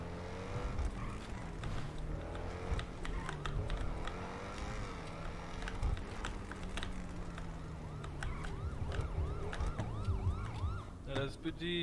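A police car siren in GTA V roleplay wails in rising and falling sweeps over a steady engine drone, growing more prominent toward the end.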